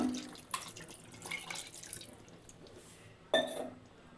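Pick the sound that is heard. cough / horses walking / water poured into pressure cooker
water poured into pressure cooker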